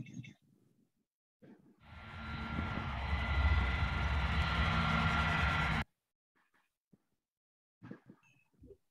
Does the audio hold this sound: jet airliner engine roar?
yes